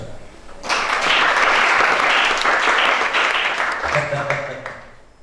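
A church congregation at a prayer and deliverance service bursts into loud, sustained applause and clapping that swells, holds for several seconds and then tapers, with a voice speaking near the end.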